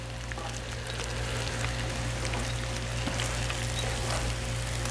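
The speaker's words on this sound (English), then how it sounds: "I'm making my bacon crispy because that's what my lovely assistant likes, and I prefer it too" Bacon frying crisp on a Blackstone griddle gives off a steady, dense sizzle that holds an even level throughout, with a low hum under it and no talking.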